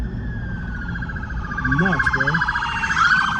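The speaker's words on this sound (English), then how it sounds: "There's another police car coming at us right here." Police car sirens wail and sweep close by on a street at 3 a.m. in Bradenton, Florida, loud over road noise as another cruiser approaches, with someone speaking briefly.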